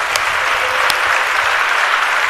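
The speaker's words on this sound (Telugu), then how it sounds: "చప్పట్లు కొట్టి దేవుని స్తుతిద్దాం" A church congregation claps their hands in praise, a dense, steady wash of applause filling the whole moment with no voices breaking through.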